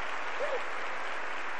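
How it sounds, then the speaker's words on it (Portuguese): Church congregation applauding during a women's worship service, a dense, even wash of clapping that holds steady for under two seconds with no voices standing out. "Você pode aplaudir o Senhor?"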